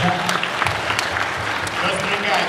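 Audience at a comic con voice-over panel claps in a steady, dense wash of applause that holds at an even level throughout.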